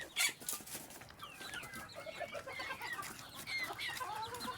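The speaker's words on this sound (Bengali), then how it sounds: "গমটা কিন্তু আমার মুরগিগুলো খাচ্ছে" Native chickens cluck softly and irregularly close by while eating wheat, with short murmuring calls overlapping one another in a quiet setting.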